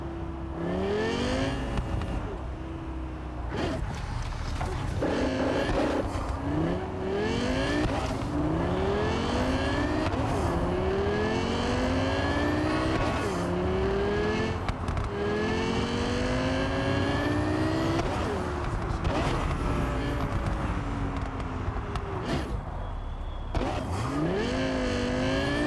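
Traffic on a busy city street in the Cyberpunk 2077 video game, with steady engine hum and several cars accelerating and passing by in overlapping rising sweeps, fairly loud and continuous, with no one talking.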